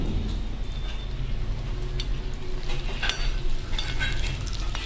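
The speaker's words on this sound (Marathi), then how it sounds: "आता मस्त खमंग असे वडे आपण तळून घेऊ बघा" Vadas deep-frying in hot oil for a fasting-day snack, giving a steady, close, continuous sizzle and crackle throughout with no voices.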